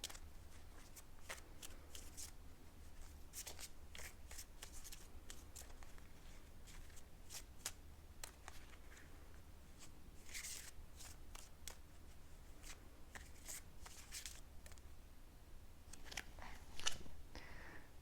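Tarot-style romance reading cards shuffled by hand, a steady run of soft papery riffles and slaps with crisp clicking bursts, close and quiet over a low background hum, no talking.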